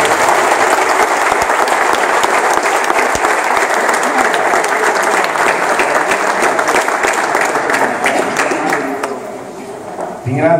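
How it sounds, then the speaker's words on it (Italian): Loud, continuous audience applause at the Alfa Romeo Giulia presentation in Susegana, a thick wash of clapping from a large crowd that eases near the end as a voice begins speaking. "vorrei un applauso."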